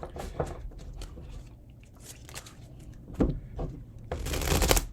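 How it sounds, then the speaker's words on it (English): A deck of tarot cards is shuffled during a reading, giving soft, quiet bursts of riffling and sliding card noise, with a brisker, louder flurry near the end. "A couple more shuffles, I think."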